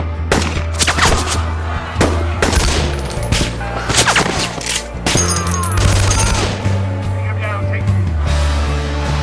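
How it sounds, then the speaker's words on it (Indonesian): Dense bursts of gunfire and booms from the zombie film 28 Weeks Later, loud and rapid with repeated sharp shots, mixed with a voice talking over the action. "Doyle yang mendengar hal itu juga kaget dan terpaksa menembak seluruh warga yang ada."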